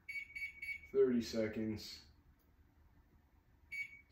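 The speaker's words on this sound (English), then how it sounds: "do I have a timer on the microwave?" Microwave oven timer beeping, a few short electronic beeps near the start and another at the end while a person talks in a kitchen between them.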